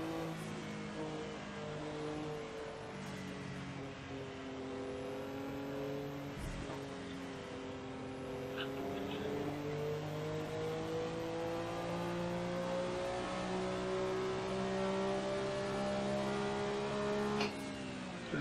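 Porsche 962C race car in Assetto Corsa, its engine droning and whining steadily as it revs through gears, pitch rising and dropping with shifts over a continuous loud tone, no voices.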